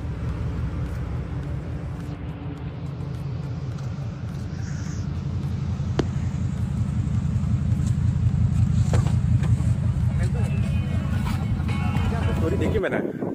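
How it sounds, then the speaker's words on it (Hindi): An expensive parked car idles with a steady, low engine rumble that holds evenly throughout, close by, while someone talks over it. "अभी ये गाड़ी शांति में खड़ी है तो भी आवाज़ ही कर रही है।"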